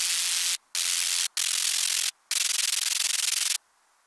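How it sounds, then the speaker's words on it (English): Loud bursts of broadband synthesizer white noise, cut by short silences, then a longer continuous hiss that stops abruptly, leaving quiet. "This is just white noise."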